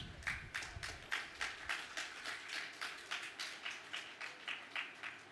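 Audience applause at a National Housing Trust handing-over ceremony in Roseneath, St Catherine, heard as steady rhythmic clapping of moderate loudness, fairly close, with no talk over it.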